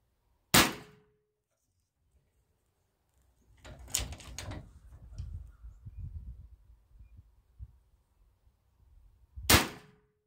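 Two sharp, loud shots from a Cattleman T2 PCP air rifle, spaced several seconds apart, with quieter shuffling and handling noise between them.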